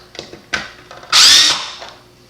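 A power screwdriver backs screws out of an Eheim Pro 2 2028 canister filter lid. A few light clicks come first, then one short, loud, high whir that fades away.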